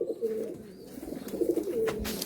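Madrasi and Giribaz pigeons coo softly and continuously inside a loft, a low murmuring chorus of several birds running steadily throughout.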